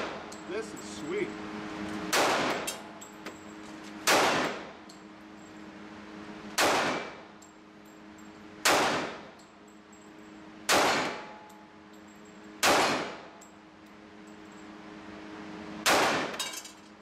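An HK USP Compact .45 pistol fires eight single shots at steady intervals of about two seconds. Each shot is a sharp, loud crack with a short ringing tail, and faint background noise fills the gaps.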